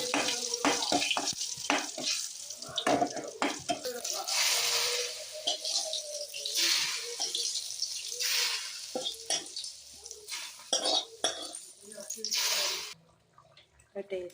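Mustard seeds sizzle and pop in hot oil at the start of a beef curry, a crackling spatter with stirring clatters beneath steady talking.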